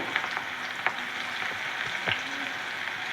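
Sweet potato bhaji with finely chopped chilies frying in hot oil, giving a steady close sizzle with a few light clicks and stirring taps; no voices.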